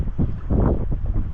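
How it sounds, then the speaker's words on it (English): Wind blowing over choppy water on a fishing outing near grass lines at high tide, a steady broadband rush and buffeting against the microphone with no talk. "we got some choppy, windy conditions"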